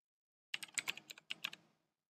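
Quick burst of typing on a computer keyboard on a Windows 10 PC, a dozen or so close, crisp key clicks in an uneven rhythm with a short pause midway, alone with no talk.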